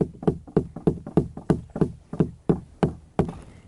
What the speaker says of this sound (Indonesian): Kita ketok-ketokan kayu ke perahu dan dengan suara itu nanti mereka akan bermunculan.